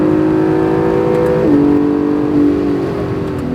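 Honda NSX race car engine on a track, droning steadily near and loud, then stepping down in pitch through two quick downshifts with a brief rise in revs.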